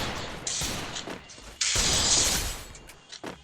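Gunfire in a shooting video game: a few sharp, noisy bursts and a longer crackling volley, loud and close, with brief mechanical clicks between shots and no speech.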